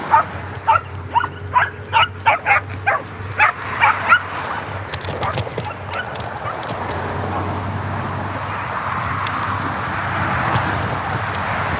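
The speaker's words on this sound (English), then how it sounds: "That dog was really happy to see me." A dog barks excitedly and fast at a passing scooter on a county road, about a dozen sharp yaps in a rapid rhythm close by. The barking then gives way to a steady rush of road and wind noise.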